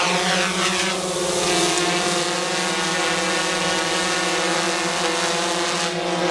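A hovering GoPro Karma drone gives off a steady, loud propeller whine with stable tonal harmonics, holding continuously close by with no talk over it.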